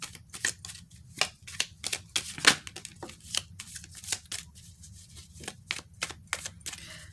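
A very small tarot deck shuffled by hand, a sequence of sharp, close card clicks and flicks in an uneven rhythm, clear against a quiet low hum and free of talk.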